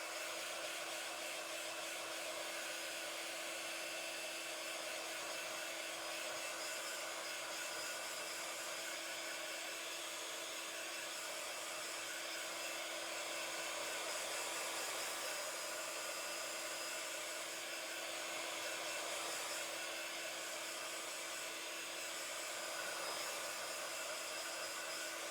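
A heat tool blows continuously on a painting to dry the paint, a steady, even, airy roar with a constant whine running throughout, with no talking.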